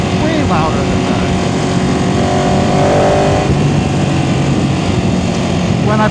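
A Ducati 899 Panigale motorcycle with its stock exhaust drones loudly and steadily throughout, its engine noise continuous and close, with a voice speaking over it.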